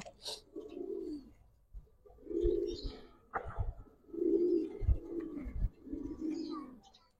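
Giribaz pigeons on a rooftop loft coo in repeated low, throaty rounds, close by and fairly steady, with no one talking.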